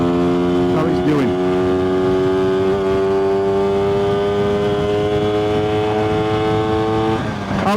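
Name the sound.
motorcycle engine revving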